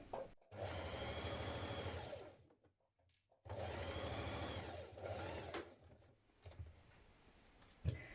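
A sewing machine stitching pockets onto the back pieces of elasticated-waist trousers, running in two steady mechanical bursts with a short pause between and a slower, stuttering run near the end.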